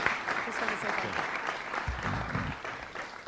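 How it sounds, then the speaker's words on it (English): Applause at a board of education meeting, a steady room-filling patter of clapping from a seated crowd, with a voice briefly sounding over it near the middle. "So a round of applause"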